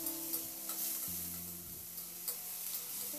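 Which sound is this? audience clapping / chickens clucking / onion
onion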